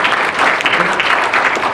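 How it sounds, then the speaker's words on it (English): Audience applause at a school business event, a burst of dense clapping from a crowd that stays steady and fairly loud for a moment. "Give a round of applause for Kumudhu Fonseca"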